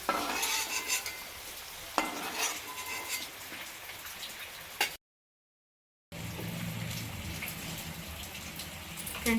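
Potato pieces frying in oil in a pan for aloo fry, a close continuous sizzle broken by scraping stirs of a utensil, with a short silent gap midway.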